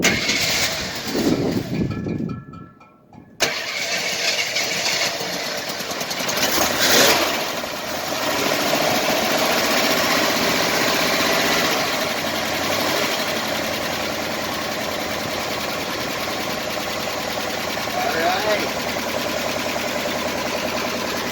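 A 1968 Jeep Wagoneer with a 327 V8 coughs briefly, drops out, then catches and settles into a steady, even idle that carries on to the end.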